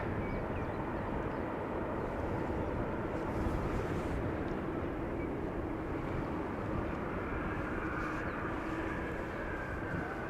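An airliner vacating the runway at Amsterdam Schiphol Airport, a steady broad engine roar that holds at an even, moderate level without fading, heard alone from a distance.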